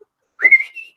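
A person gives one short whistle indoors. It is clear and close, and a brief rising note is followed by a higher sustained tone that ends abruptly.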